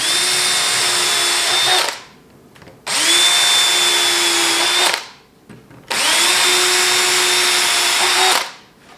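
Cordless drill drives screws into a wooden skate ledge in three long bursts, each whirring steadily for roughly two seconds with short pauses between, close and loud with no talking.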